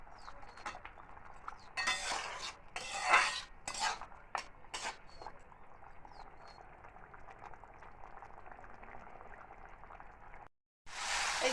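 Masala sizzles and bubbles in a pan with lentil dumplings while a spatula scrapes and clinks against the metal in sporadic strokes under a constant frying hiss.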